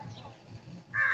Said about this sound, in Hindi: तुम्हारे में कौवा बहुत बोल रहा है तुम्हें